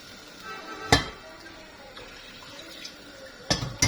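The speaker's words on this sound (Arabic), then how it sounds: "هنزل بشويه ميه" Small amount of water poured into a cooking pan of stuffed artichokes and potatoes, with a couple of sharp splashing bursts amid a low running trickle, fairly close and moderately quiet.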